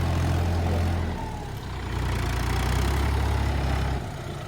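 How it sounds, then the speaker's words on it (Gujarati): A Mahindra Yuvo 405 tractor engine runs nearby on a farm, a heavy low diesel rumble that dips briefly then swells again at a steady idle, with no talk. "મહિન્દ્રા વિવો ચાલુ."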